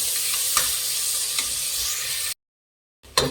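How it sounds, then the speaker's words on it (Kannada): Two finely chopped tomatoes are stirred in a sizzling frying pan for cauliflower biryani, a loud steady sizzle with scraping strokes that cuts to silence briefly before resuming. "ಸಣ್ಣದಾಗಿ ಹಚ್ಚಿರೋಂಥ 2 ಟೊಮೆಟೊ ಹಾಕ್ಕೊತಾ ಇದ್ದೀನಿ, ಮಿಕ್ಸ್ ಮಾಡಿ"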